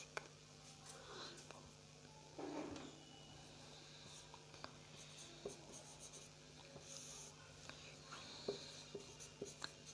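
Chalk or marker writing on a board during a chemistry lesson, a steady faint scratching and tapping with small strokes and clicks, close by, with no talking.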